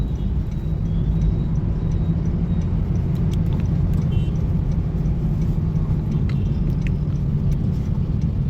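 A 2015 Honda Vezel Hybrid on a test drive after gearbox repairs for a fault where acceleration was not working. Steady road and engine rumble from inside the car holds at a constant level throughout.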